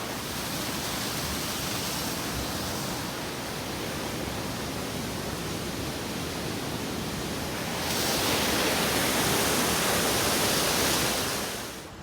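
A waterfall at Opal Creek in Oregon, with spring water coming down near a walk bridge, makes a steady broad rushing roar that grows louder partway through, with no speech.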